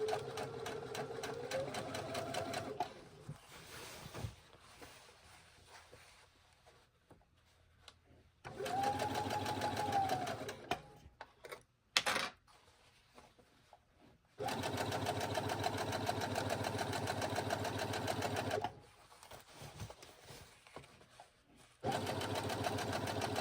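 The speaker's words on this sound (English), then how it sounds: "I'm just gonna sew all the way up to there and do a back stitch." A sewing machine stitches a jeans hem through a thick seam allowance, a steady close mechanical whir running in long bursts with short pauses between them and a brief stop partway through.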